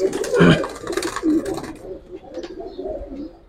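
Giribaz and coloured pigeons coo close by, giving a few throaty, rolling calls in the first half that fade toward quieter murmurs, with someone speaking briefly alongside.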